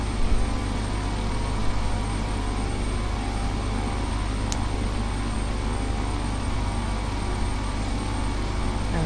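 King Air turboprop engines in FSX flight simulation, preparing a touch and go on Birmingham runway 6, give a steady, loud, continuous drone throughout with no talk.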